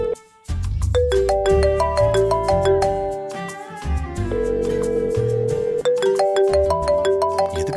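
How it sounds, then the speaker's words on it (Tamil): An incoming-call ringtone on a mobile phone, a bright melodic electronic tune of repeating tones playing loudly and continuously on its own. "எதுக்கு செரி ஃபோன் பண்றான்?"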